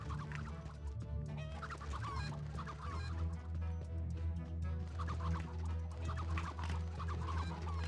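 Hens cluck and chatter in the Horsez: Ranch Rescue video game, with repeated short clucks scattered over a steady low hum of game background sound and no talking, fairly quiet overall.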